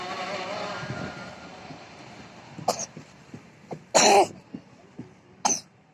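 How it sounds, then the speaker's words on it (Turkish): A child coughs several times outdoors in a sand playground, short sharp bursts scattered over a few seconds with one louder cough standing out, heard close and alone against quiet background. "Öksürüyorsun yine ya."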